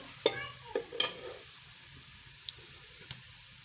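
Onions fry in a pan for zeera pulao, giving off a soft steady sizzle punctuated by a few sharp clinks and scrapes of a stirring spoon, quiet and with no talking.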